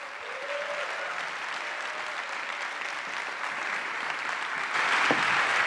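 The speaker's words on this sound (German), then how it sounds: "Und deswegen ein großer Applaus für Alexander Lehmann." Audience applause for Alexander Lehmann at a digital civil society gala, sustained clapping from a large crowd that holds steady and swells slightly louder toward the end.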